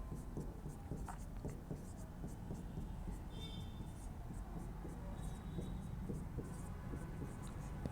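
Chalk or marker scratching out a heading for a beta and gamma function lesson in a mathematics lecture, a steady run of short taps and strokes at low level, with no talking over it.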